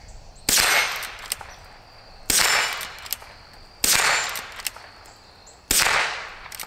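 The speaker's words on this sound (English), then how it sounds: "We'll just start shooting these red plates and these right over here." Four sharp, loud rifle shots from a Henry H001 lever-action fired outdoors at red steel plates, roughly evenly spaced, each with a trailing ring-off and metallic plate clang, no talk.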